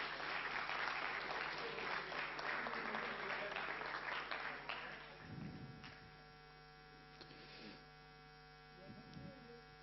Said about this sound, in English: The biggest applause for ACE Solutions in 3rd place.